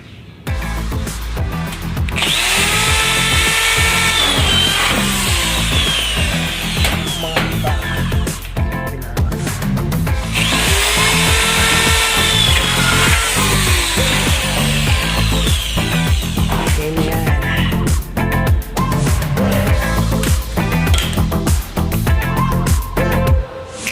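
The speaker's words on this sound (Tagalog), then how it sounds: "I-fix naman natin yan. Gamit ang drill." A power drill driving fasteners into drywall during a home installation runs in long, loud whirring bursts with rising and falling pitch, broken by brief pauses and scraping handling noises.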